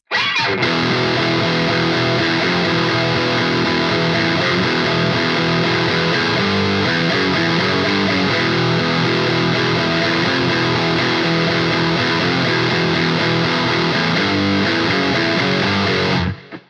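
A heavily distorted electric guitar churns through a verse riff at a faster tempo, dense and loud from start to finish before cutting off at the end.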